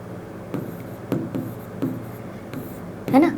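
Pen or marker strokes on paper or a board during a Class 7 maths lesson on fractions and decimals, with several short scratchy bursts spaced apart and a louder stroke at the end, close and fairly quiet.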